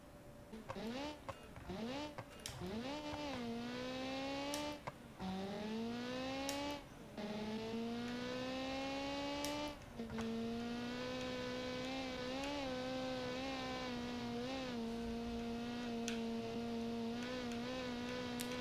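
HFF Motors Pride race car in a racing video game, its engine revving up through repeated gear changes then holding a steady high drone, loud and close with commentary talk over it.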